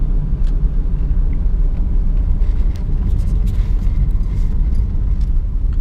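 A car rolls into a large local parking lot, heard from inside as a steady loud low rumble of engine and road noise without a break, with no voices.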